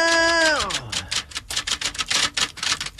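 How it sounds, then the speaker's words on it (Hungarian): Old typewriter typing on a radio morning show: a falling tone gives way to a fast, uneven clatter of loud keystroke clicks that continues to the end. "Ó, egy régi írógépet előre. Gépeli a regényt, Óven bácsi."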